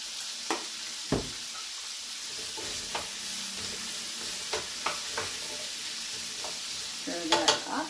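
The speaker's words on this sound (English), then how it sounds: "Stir that up." A spoon stirs seasoned vegetables sizzling in a frying pan, producing scattered scrapes and knocks over a constant soft fry, quiet and close.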